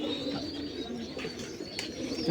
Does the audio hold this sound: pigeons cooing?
yes